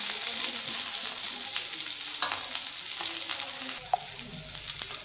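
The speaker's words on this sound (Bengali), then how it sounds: "এবার আমি বেগুনগুলো একটু ভালো করে ভেজে নিই।" Eggplant pieces sizzling as they fry in hot oil in a pan, a continuous close hiss with occasional stirring scrapes and a small clink near the end.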